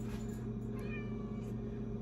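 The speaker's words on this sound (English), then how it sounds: "the one brain-celled cat" A cat meows over a steady low electrical hum, short calls repeating at moderate closeness with no one speaking.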